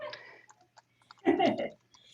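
Typing on a computer keyboard, a few light scattered clicks followed by a short louder burst of keystrokes, near and quiet, with no talk.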